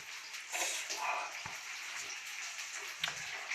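An egg frying in a pan at home, burning slightly, gives a steady broadband sizzle with small crackles and pops, close and fairly quiet, with no talk over it.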